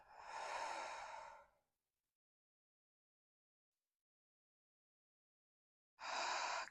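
A slow, deep yoga breath: an airy exhale fades out, then a long stretch of silence before the next breath begins, close and soft.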